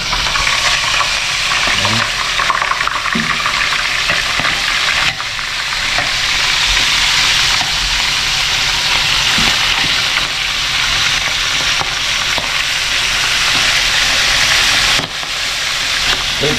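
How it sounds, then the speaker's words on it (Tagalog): Loud, steady hissing sizzle of milkfish frying in hot oil in a pan, close up and continuous, with occasional pops and clinks. "Ngayon po, iluto na yung ating pritong bangus."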